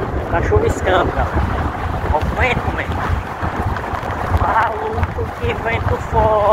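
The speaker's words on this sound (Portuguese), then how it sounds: "Que vento forte" Strong wind buffets the microphone during an electric Citycoco Shineray scooter ride in light drizzle, a loud continuous rumble heard under a voice.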